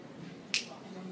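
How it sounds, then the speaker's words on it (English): A single crisp finger snap, close and sharp, over a quiet room hum. "All I have to do is just snap my fingers"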